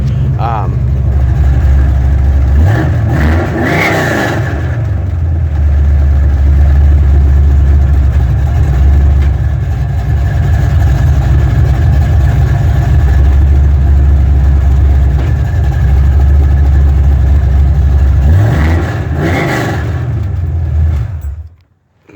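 A 1972 Ford Maverick Sprint V8 runs loud and close, a steady heavy idle broken by two brief revs early and late before it cuts off abruptly at the end.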